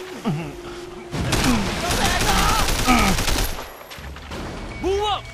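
Bursts of automatic gunfire and shots from the action game Sleeping Dogs, loud and dense through most of the clip, mixed with game effects and a voice talking over the shooting.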